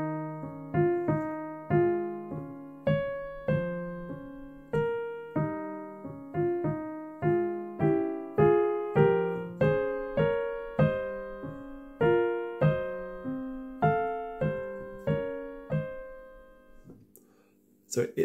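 Solo piano playing three bars of Ibert's Sérénade sur l'eau without pedal, a steady stream of crisp, detached notes in parallel thirds, moderately quiet and close, with a small knock at the end.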